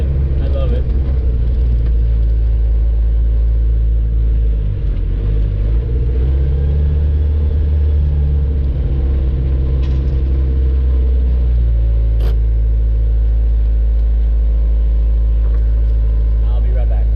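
An abandoned Suzuki Samurai engine idles with a rough, shaky, rattly rumble. It runs steadily throughout, with a brief clank partway through.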